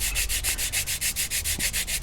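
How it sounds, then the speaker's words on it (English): A 220-grit sandpaper block rubs along the leading edge of an Estes Death Star model rocket fin, giving steady, even back-and-forth strokes about eight times a second, close and loud with no talking. "sand the contour into the leading edge"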